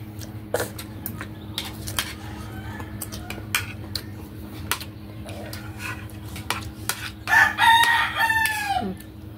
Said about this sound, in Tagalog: Ang ingay ng mga manok dito mga idol.